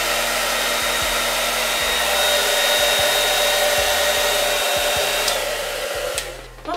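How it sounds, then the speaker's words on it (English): A hair dryer blows steadily and loudly on hair for the whole stretch, a constant close whoosh with a steady motor whine, alone with no talking, easing slightly near the end. "So I'm just going to blow dry it to make it,"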